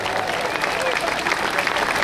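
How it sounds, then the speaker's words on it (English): A crowd applauds steadily for British Paralympic table tennis athletes at a Sheffield send-off, dense clapping filling the space throughout with voices faintly mixed in. "Round of applause to them."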